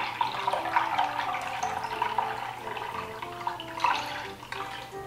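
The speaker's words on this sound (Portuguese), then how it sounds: "Vou acrescentar a água." Water poured into a chicken marinade with white wine for a stuffed roast Christmas chicken, a steady splashing pour running the whole time at moderate level, with a low hum beneath and no talking.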